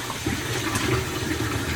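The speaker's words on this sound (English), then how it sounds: "let's all enjoy the sound of running water while we wait" Steady running water pours in to fill a small fish tank, a continuous close splashing rush with no talking over it.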